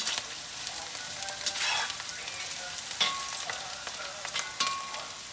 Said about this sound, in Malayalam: ഉള്ളി മുരിഞ്ഞുകൊണ്ടിരിക്കുന്നുണ്ട്